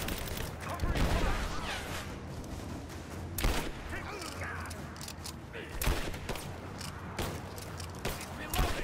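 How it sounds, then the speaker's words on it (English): Rapid covering gunfire crackles in Rise of the Tomb Raider, a dense stream of overlapping shots and bursts that stays steady throughout, with a few louder cracks standing out. "Covering fire."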